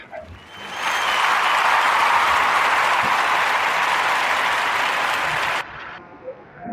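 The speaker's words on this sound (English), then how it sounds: "So that was definitely worthy for a round of applause." Audience applause on a podcast, a dense, even wash of clapping that swells in quickly, holds steady for several seconds, then cuts off abruptly.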